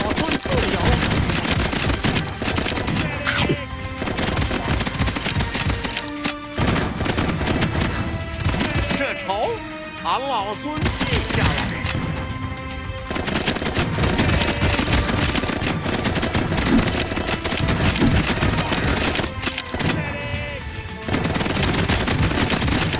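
Rapid automatic gunfire from the video game Black Gunner Wukong rattles in long, dense bursts with brief pauses between volleys, loud and close throughout, with occasional talking.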